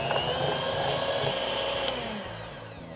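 An electric mixer beats cream cheese frosting with added powdered sugar, giving a steady, even motor whine at moderate volume that fades slightly toward the end, with no other sounds.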